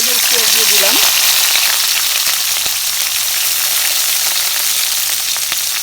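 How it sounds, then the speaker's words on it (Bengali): Chili and onion sizzle steadily in hot oil in a wok. The frying is loud and continuous, with a brief voice at the start. "এই যে মরিচ পেঁয়াজ দিয়ে দিলাম।"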